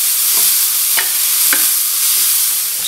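Shiitake mushrooms cook in a pan with a steady, loud sizzle, while a spoon or spatula stirs them in a few sharp scrapes.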